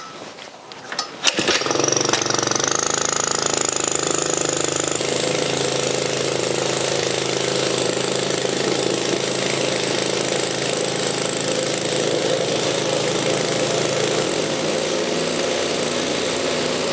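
A plate compactor starts after a second of quiet, with a sharp burst, and then runs continuously with a loud, steady, buzzing engine roar and vibration, close by and with no one talking.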